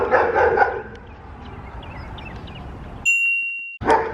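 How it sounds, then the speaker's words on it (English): A dog barks nearby outdoors in a short burst at the start, followed by quieter background and a brief high electronic ding. "that stupid dog just barking over there."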